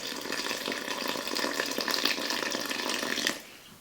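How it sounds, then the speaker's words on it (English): Water is poured into a bowl of yellow and white cornmeal mixed with flour, giving a steady close trickling pour for about three seconds before it stops abruptly. "I'm gonna take our water and get it in here"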